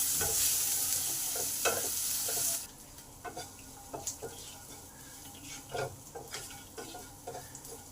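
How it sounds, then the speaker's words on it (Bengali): Chopped onions and garlic fry in a pan with a little salt, a strong hiss at first that drops to quieter sizzling under irregular spoon scrapes and taps against the pan, close by and without talk. "পেঁয়াজটা তাড়াতাড়ি ভাজা হবে"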